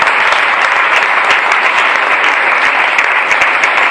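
A church congregation applauds during a worship service, a loud, sustained, even clapping from many hands throughout.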